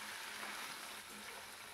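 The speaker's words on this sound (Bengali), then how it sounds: "এবার দেখো কড়াইয়ের মধ্যে সাদা তেল দিয়ে সমস্ত পনিরটা আমি ছেড়ে দিচ্ছি।" Paneer fries in refined white oil in a wok, giving a soft, steady sizzling hiss that stays even throughout with no voices.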